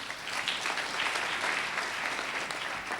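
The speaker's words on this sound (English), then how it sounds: "Shall we please applaud him one more time" University audience applauding a dignitary after his speech at a live-streamed ceremony, a continuous, even round of many hands clapping at moderate distance, with no talking over it.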